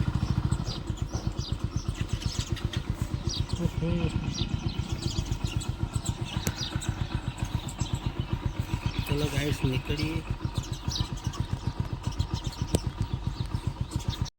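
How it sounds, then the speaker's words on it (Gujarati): A motorcycle engine idles steadily while warming up before a ride, a continuous close rumble running throughout, with a voice talking over it now and then. "બાઇક થોડું ગરમ કરીશું પછી નીકળીશું"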